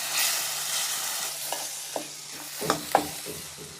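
Finely blended spice paste and garlic stir-fry in a wok, a soft steady sizzle broken by a few sharp spatula scrapes and clanks that grow louder toward the end, without any talking.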